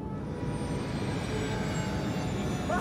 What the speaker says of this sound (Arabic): تعكس المحركات.